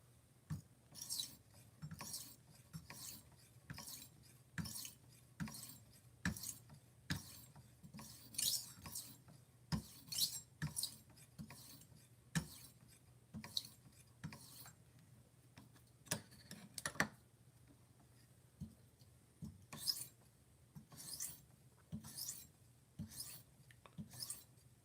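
A kitchen knife is sharpened with a long run of quick, evenly spaced strokes, each a short bright scrape. The strokes repeat steadily with brief pauses, close to the microphone, and no one speaks.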